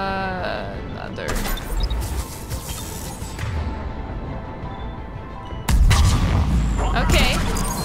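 Explosive weapons fire in Mass Effect 3's Omega DLC combat, with dull booms and shots layered under someone talking, a loud blast near the end followed by heavier rumbling.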